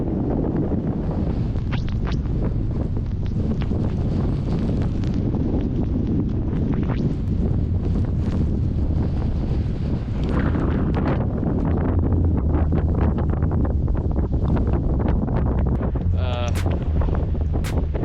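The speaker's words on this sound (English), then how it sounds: "it's day 3 of a pretty strong headwind" Strong desert headwind roars steadily across the microphone while cycling through the Sonoran Desert, a loud continuous buffeting rush that never lets up, with faint rattles and gusts mixed in.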